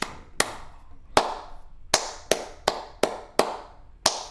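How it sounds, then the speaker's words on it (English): Crisp hand claps beat out a simple rhythm for a fiddle reading-rhythm lesson, nine sharp claps in short and long spacing, close and clear with no talking. "Now clap it and read it"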